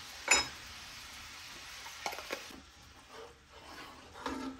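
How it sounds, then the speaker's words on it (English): Shrimp paste is stirred into a pot of pinakbet, with quiet scraping and faint sizzling plus a couple of soft utensil clinks against the pot, fairly faint and close. "make sure you mix that shrimp paste in there really good"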